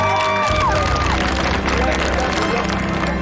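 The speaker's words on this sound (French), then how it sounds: "On peut les applaudir, hein?" Studio audience applauding on a French TV game show, a dense burst of clapping and cheering mixed with crowd babble and background music, loud and continuous.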